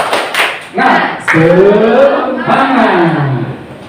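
At a teachers' workshop, a group performs the rhythmic Indonesian 'tepuk semangat' spirit clap, with quick claps in patterned bursts and a chanted, shouted voice carried over them, loud and close.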